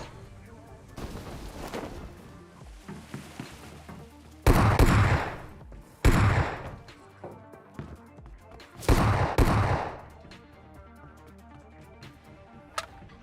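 An S12K shotgun fires in the mobile battle-royale game PUBG Mobile, with a few loud, separated blasts over quieter game noise and occasional voices.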